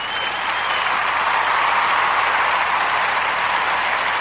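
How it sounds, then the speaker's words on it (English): A live audience gives a loud, sustained round of applause, dense clapping that swells slightly midway and continues steadily to the end. "So this round of applause is actually for you."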